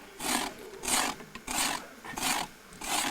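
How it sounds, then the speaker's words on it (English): A scraper drawn repeatedly across a moose hide, stripping off the epidermis in five rough rasping strokes at a steady rhythm, close and fairly loud, with short pauses between strokes. "The next step was to use a scraper or knife to remove the back epidermis"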